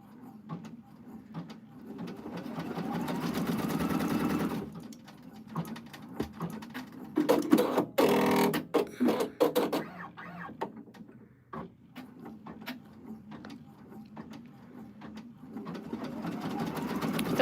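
Embroidery machine stitching a 3D puffy foam design onto a sweatshirt, a rapid mechanical whirring chatter that runs in stretches, broken by pauses, clicks and thumps. The sound is close, and a voice speaks briefly at times.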